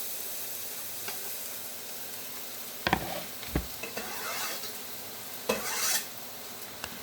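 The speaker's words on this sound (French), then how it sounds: "Là, on remue bien les oignons. Très régulièrement." Onions fry in a pan on a steady low hiss, broken by a few short scraping stirs and clinks of a utensil against the pan, close by with no talk.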